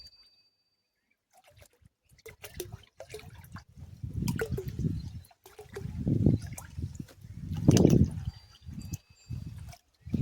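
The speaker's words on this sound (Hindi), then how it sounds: "तो सबसे पहले हम इसके अंदर डालेंगे 1 लीटर बैक्टीरिया।" Liquid bacteria culture poured into water to make bio slurry for organic farming, a splashing, gurgling pour in several surges after a brief quiet start, close and fairly loud.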